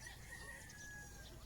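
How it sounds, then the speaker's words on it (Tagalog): A rooster crows faintly in the distance over a low background rumble at Moalboal Beach. "langgam, huni sa mga manok."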